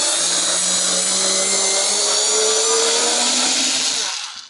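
A Ryobi Ergo 4V cordless screwdriver runs steadily while backing out screws on RC maintenance, a continuous high motor whine with a rising tone that holds for about four seconds, then cuts off abruptly, loud and close.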